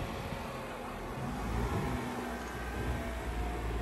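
Tata Tigor i-CNG car crawling across an obstacle course, a steady low engine rumble with rattling and bumping noise held at an even level throughout, no voices.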